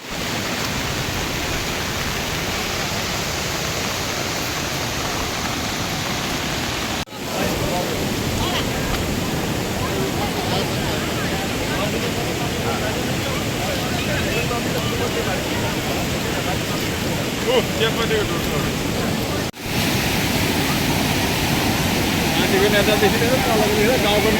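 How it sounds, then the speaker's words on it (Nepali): Loud, steady roar of the flooded Kali Khola river rushing past fills the whole stretch without pause, broadband and close, with a few brief dips; a voice may be faintly buried beneath. "काली खोला ओर्लिएर आएको छ एकदम भयावह स्थिति यहाँ देखा परिरहेको छ"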